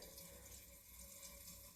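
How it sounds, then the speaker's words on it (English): Water rushes steadily through a urinal flush valve that will not shut off, a quiet continuous hiss and gurgle with no talking. "Still water running."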